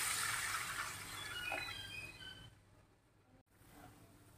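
Water is poured into a pot of fragrant, cooked spices for an Indonesian goat offal tongseng, a steady broad gush lasting a couple of seconds before fading to quieter bubbling.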